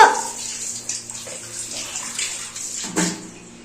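Water runs steadily from a tap with a broad hiss, fairly close, with a small splash or clatter near the end; no one speaks.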